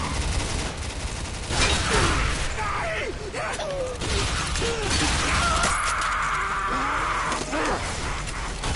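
Pistol shots and busy combat effects in the video game Bulletstorm, loud sharp bursts mixed with crashes, mechanical clatter and creature cries across the whole stretch.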